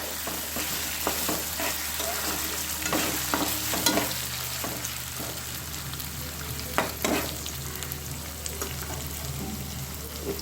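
Rice fries in ghee with garam masala, producing a steady close sizzle broken by scattered scraping strokes of a spoon stirring the grains, with no speech.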